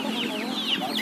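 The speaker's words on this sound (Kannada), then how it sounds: "ಫೈಟರ್ ಕೋಳಿ ಅದು ಇದಾ" A fighter chicken at a poultry market in Ranebennur clucking close by, a short run of quick nasal clucks over a steady background hum.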